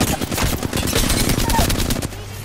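Rapid automatic gunfire from a charge-rifle fight in Apex Legends on Storm Point, dense bursts crackling steadily for about two seconds before cutting off into a low hum.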